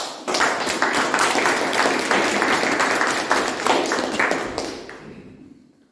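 An audience at a Toastmasters club meeting claps in a loud, dense burst of many hands, close and sustained for several seconds before thinning out and fading to quiet at the end.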